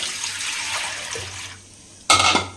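Water pours steadily into a container, one cup measured out to make sugar syrup for gulab jamun. The pour runs as a continuous splashing hiss, thins out, then a brief louder gush follows near the end, with no talking.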